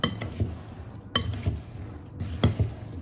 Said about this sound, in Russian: В яблочки добавляем апельсиновую цедру и корицу с сахаром. Корицу с сахаром не всю высыпаем. И все хорошо смешиваем.